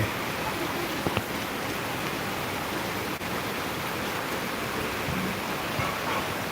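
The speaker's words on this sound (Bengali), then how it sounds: "প্রচুর বৃষ্টি হচ্ছে আমাদের যাত্রা বাড়িতে" Heavy rain falling in Jatrabari, a steady broadband wash of downpour that stays even and continuous throughout, close and fairly loud with no voices.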